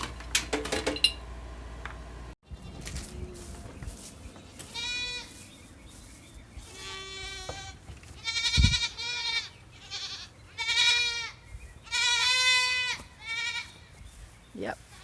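Three-month-old goat kids bleat repeatedly at feeding time with a lamb bar, loud nearby cries overlapping in bursts, mixed with clinks and handling noises.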